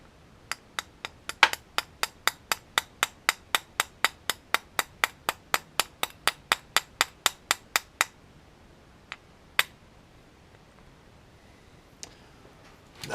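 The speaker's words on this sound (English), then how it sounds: "use my tiny hammer here" A tiny hammer taps a part down into a 1979 Honda ATC three-wheeler carburetor during a rebuild, giving about thirty sharp, evenly spaced metallic taps, followed by a few isolated taps after a pause.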